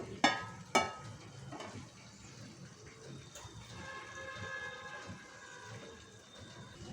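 Mixed tempering spices are added to hot oil in a pan on a medium flame, giving a steady close sizzle and frying crackle, opened by two sharp metallic clinks of a utensil against the pan.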